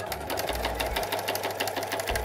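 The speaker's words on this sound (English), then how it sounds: "I will not sew all the way to the edge. Straight stitch and back stitching." Sewing machine running a straight stitch with back stitching near the edge of a pre-ironed shirt cuff, a steady fast rhythmic whirring mechanical chatter that continues alone for a couple of seconds.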